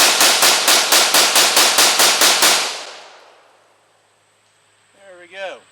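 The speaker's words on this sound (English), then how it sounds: "now we're just going to do a mag dump into it." Rapid gunfire from a Colt A2 Government carbine emptying its magazine: about a dozen loud, evenly spaced shots in quick succession, then a fading echo and a brief voice afterward.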